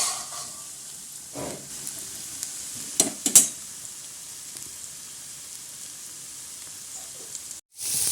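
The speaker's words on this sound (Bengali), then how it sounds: "এবার আমি চিকেন বলসগুলোকে ভেজে নিচ্ছি।" Chicken balls for chicken manchurian fry in hot oil with a steady, low sizzle, broken by a couple of sharp clinks near the middle, with no one speaking.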